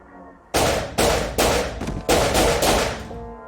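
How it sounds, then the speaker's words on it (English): Gunmen open fire at a flat's doorway in a burst of about six loud, sharp gunshots, closely spaced in an irregular rhythm, each followed by a brief ringing decay, with faint music beneath. "Multiple bullets strike Illy, killing him instantly."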